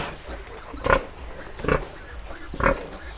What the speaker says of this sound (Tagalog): Ang laki ng mga baboy.